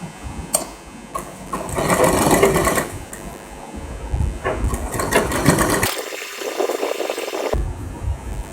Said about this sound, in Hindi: तो उतना ही मार्जिन पे मैं सिलाई लगाऊंगा।